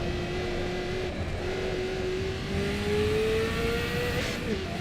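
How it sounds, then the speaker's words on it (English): Racing car engine in the sim game Assetto Corsa EVO, revving steadily with a rising, shifting drone that changes note oddly, loud and continuous throughout with no talking. "Engine sounds very odd. The note sort of changes."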